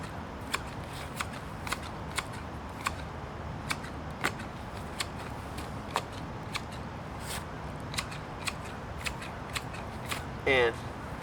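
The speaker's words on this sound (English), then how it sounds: "literally do a circle around the plant to try and get it regular, nice regular cut" Pruning shears clip through ornamental grasses in a garden, with a series of crisp snips spaced irregularly over a quiet outdoor background, ending in a short, louder burst of rustling.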